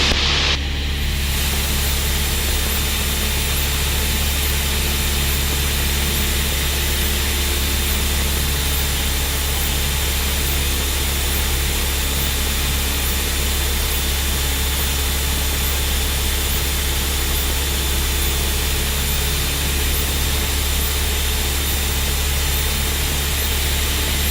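A Cessna 172 light aircraft engine drones steadily through the whole landing, a loud, unbroken low hum with a faint higher tone, heard from inside the cockpit with no talk.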